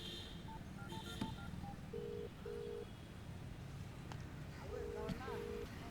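A series of short, steady telephone keypad tones beeping in quick succession, then in pairs, fairly quiet over a noisy background.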